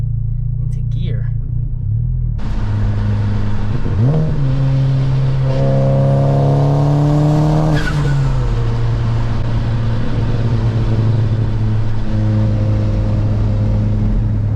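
A Chevy HHR SS engine rumbles and revs close up, deep throaty loud exhaust and a loud clutch rising and falling through gear changes, with a voice talking over it.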